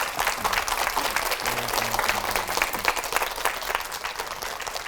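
Sustained, full applause from a lecture audience greeting a monk speaker, many hands clapping densely and evenly, with faint background tones underneath.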